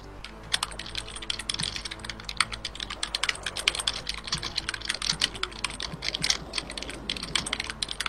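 Rapid, uneven clacking of keys on a computer keyboard fills the whole stretch, close and fairly loud, with no talking over it.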